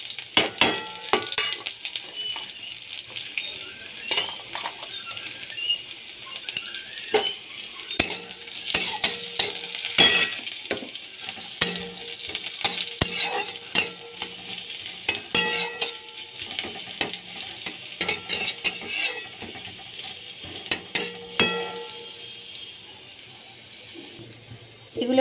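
Whole cumin seeds with chopped ginger and garlic fry in a pan, a steady close sizzle broken by frequent scraping stir clicks and clatter, with a watery splashing texture running throughout and no talking.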